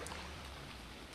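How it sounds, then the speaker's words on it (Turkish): Soft, even rain patters steadily in the survival video game ARK: Survival Evolved, a faint continuous hiss with no voices. "Yağmur başladı."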